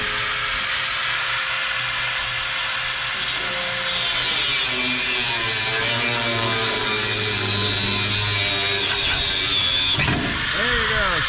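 A brush cutter blade whirs loudly through hay, a continuous high engine whine with shifting rubbing and slicing texture that surges near the end. A voice is heard partly under the noise.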